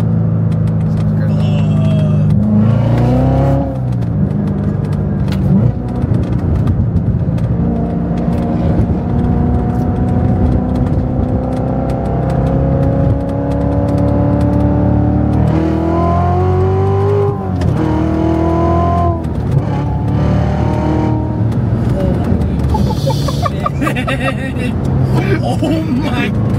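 A Corvette C7 Z06 accelerates hard from inside the car, its engine roaring and climbing through several gear shifts, loud and continuous, with passengers talking and exclaiming over it.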